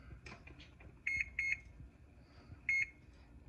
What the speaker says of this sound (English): We set the timer for 25 minutes.